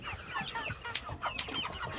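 Meat-bird chickens cluck close by in quick, overlapping murmurs, with a couple of sharper squawks standing out.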